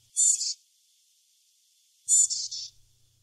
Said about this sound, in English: this call is made by the adorable fledglings to obtain food from their parents